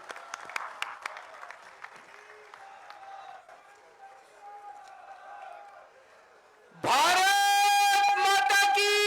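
Scattered clapping rises from an audience at a political rally in Jalandhar, fading into crowd murmur before loud music suddenly blares in near the end.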